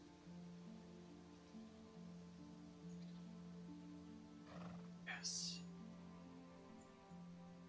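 A horse in a video game neighs once, a short, fairly faint whinny rising briefly over a steady musical drone and ambient game noise.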